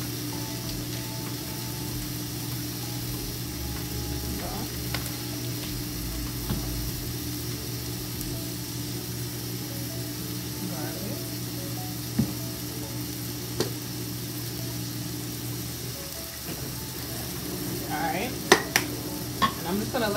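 A plant-based Impossible burger patty sizzles steadily in a frying pan, a constant close hiss with occasional faint clicks and scrapes of a utensil and no talking.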